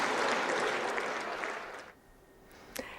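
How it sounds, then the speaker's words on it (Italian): Sustained applause fills the Italian Senate for Prime Minister Mario Draghi's speech, a dense wash of many hands clapping that fades out after about two seconds, leaving a brief quiet with a couple of faint knocks. "il lungo applauso con il quale al Senato è stato accolto il discorso del Presidente del Consiglio Mario Draghi"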